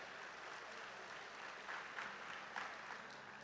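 Applause from a conference audience, a faint, distant, continuous wash of clapping that holds steady and swells slightly a few times.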